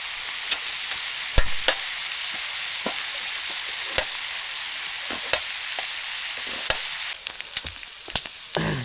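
Steady sizzling of pork neck frying in a pan at a campsite, with occasional sharp clicks and pops rising above the hiss. No voices.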